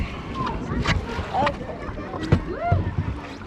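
Kayak paddling on the water in Matka Canyon, with soft splashes and knocks of paddle strokes over wind and water, while people chat and laugh close by.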